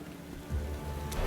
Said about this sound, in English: Rain came out of nowhere.